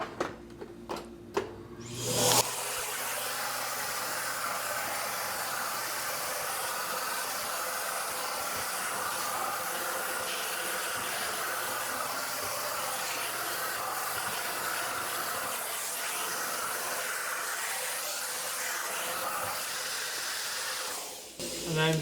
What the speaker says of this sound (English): Alright, so now we're going to start vacuuming up the coils.